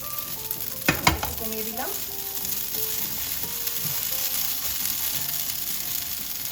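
Meat sauce for spaghetti gently heating in a pan on lowered heat, with a soft steady sizzle and a few clattering scrapes of a spoon stirring near the start; a brief spoken remark comes early.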